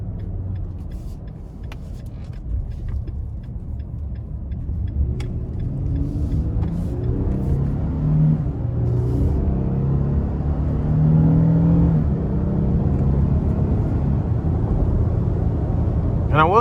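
A 2022 Nissan Frontier Pro-4X pickup accelerates onto an interstate with manual shifting, its engine rumbling low and building steadily in pitch and loudness, heard from inside the cab with road noise.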